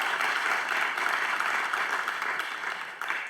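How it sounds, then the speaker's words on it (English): Conference attendees at a quantum technology event give a sustained round of applause, a close, even patter of many hands with no speech over it, tapering a little near the end. "could we also have a big round of applause for the 7 national quantum leaders"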